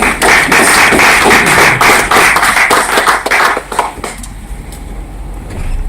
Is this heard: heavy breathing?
no